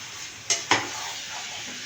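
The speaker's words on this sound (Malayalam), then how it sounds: "ഇടയ്ക്കൊന്നും ഇങ്ങനെ ഇളക്കി കൊടുക്കണം" Chicken ghee roast being stirred in a pan, two quick scraping knocks of a spoon against the pan over a soft steady sizzle, close by and brief, with no speech.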